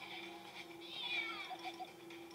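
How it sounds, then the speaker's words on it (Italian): Kittens meow faintly but clearly, a rising high mew followed by a few short squeaky calls against a quiet background hum. "Due gattini ci sono."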